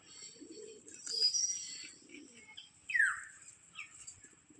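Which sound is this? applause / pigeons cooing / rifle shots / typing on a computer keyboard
pigeons cooing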